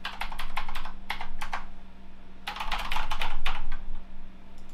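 Fingers type on a computer keyboard in two quick bursts of rapid key clicks separated by a short pause, close and clear over a low steady hum, with no voices.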